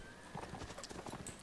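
Horse hooves clip-clop in the Mount and Blade Warband video game, a quick, fairly faint run of irregular hoofbeats with a brief whinny-like tone, no talking.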